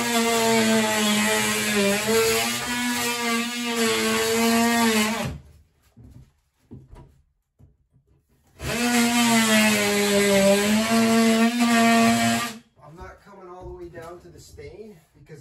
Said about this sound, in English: I'll just use my edger to trim along the